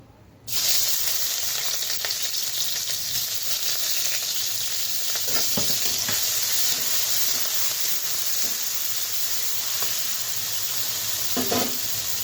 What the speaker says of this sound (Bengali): তো তেলটা গরম হয়ে গেছে, দিয়ে দেব পেঁয়াজ কুচি